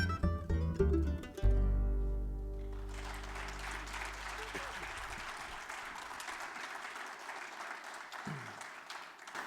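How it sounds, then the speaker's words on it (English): Audience applause breaks out at a bluegrass-style concert as a song with fiddle ends, the final instrumental notes ringing out before steady, full clapping carries through to the end. "Give him a round of applause, folks."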